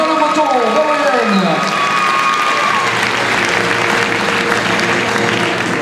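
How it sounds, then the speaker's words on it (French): A crowd applauds at an equestrian show-jumping award ceremony in Paris, sustained loud clapping mixed with some cheering while an announcer's amplified voice fades out at the start. "Eden que vous pouvez une nouvelle fois applaudir"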